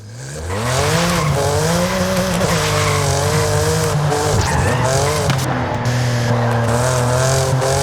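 In Forza Horizon 5, a BMW M4 on drift tyres slides through a drift, its engine revving loud and sustained while tyres squeal continuously alongside it.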